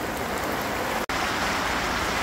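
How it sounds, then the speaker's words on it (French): Steady heavy rain pours down without a break during a fishing outing, a dense, loud, continuous hiss across the whole span, with one momentary dropout near the middle. "Il pleut toujours autant, hein."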